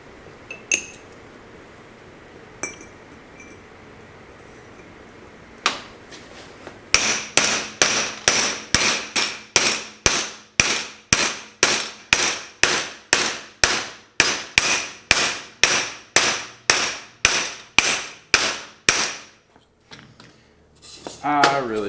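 A piece of roll cage tubing is used as a driver and struck by a hammer on the rear axle of a 1971 Ford Maverick with a Ford 8-inch rear end, giving a few scattered clanks followed by a steady run of about two dozen loud, ringing metallic blows.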